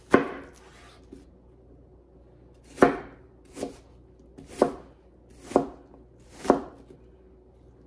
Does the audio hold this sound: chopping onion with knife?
yes